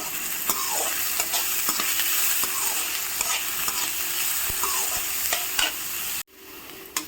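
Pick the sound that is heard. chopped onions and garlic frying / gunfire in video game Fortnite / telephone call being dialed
chopped onions and garlic frying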